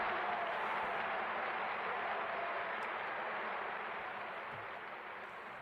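Audience applause at a 1950 Mexico City opera performance, a dense continuous wash of clapping from a large crowd, heard through an old recording, steady and then slowly fading a little toward the end.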